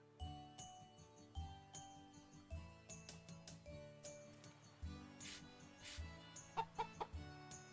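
Chicken clucking in the farming video game Story of Seasons: Pioneers of Olive Town, a run of short soft clucks set over gentle looping game music with light chiming tones, no voices.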